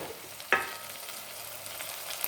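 Green peas and brinjal curry with ginger-garlic paste fry in a pan under a low steady sizzle, with one sharp scrape of stirring early on and faint movement after.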